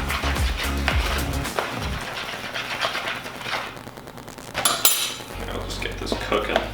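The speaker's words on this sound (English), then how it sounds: "We're gonna add a cup of water to the rice," A spoon stirs cooked rice with a cup of added water in a dish, giving close, steady clinks and scrapes of metal against the dish throughout.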